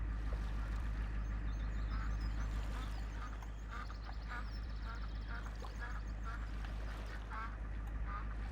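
A duck in Farming Simulator 2017, on the Lone Star map, gives several soft, scattered quacks. They sit over a steady low hum and constant ambient game background noise.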